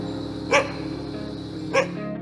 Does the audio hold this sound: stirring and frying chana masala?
no